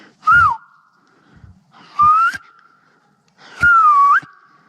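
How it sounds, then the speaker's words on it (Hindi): Three separate human whistles sound inside Ali Sadr Cave, each a short rising and falling tone that leaves a lingering echo tail before quiet pauses. "सीटी बजाता हूँ, देखता हूँ इको कितनी होती है।"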